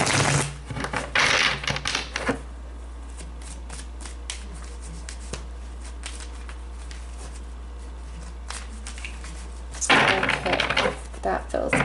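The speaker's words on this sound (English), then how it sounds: "I feel like I need to shuffle it again." Tarot cards are shuffled in quick riffling bursts near the start and again near the end, with a quieter stretch of soft handling in between.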